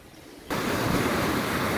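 A feisty river rushes powerfully in Bel Air, Mauritius, a loud, steady roar of churning water that surges in abruptly and holds constant, with no voices.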